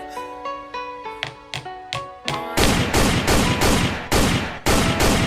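Gunshots in a music video ring out over the track, first single sharp cracks spaced between melodic notes, then a dense rapid volley of loud, evenly spaced shots that continues to the end.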